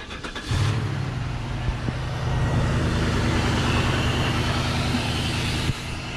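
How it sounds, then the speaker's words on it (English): A 2001 Cadillac DeVille Northstar engine with a suspected blown head gasket cranks briefly, catches and settles into a steady close idle hum, then shuts off near the end. "Start the engine up."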